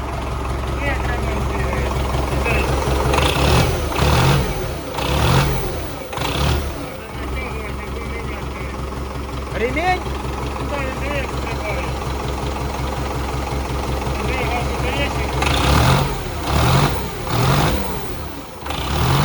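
An MTZ tractor engine runs with a steady mid-pitched diesel rumble, rising in several revving bursts over about twenty seconds, close and loud, with occasional voices underneath.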